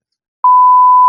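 A steady censor bleep tone after a moment of silence, one continuous pure beep that holds loud and unbroken until it cuts off, alone with no voices over it.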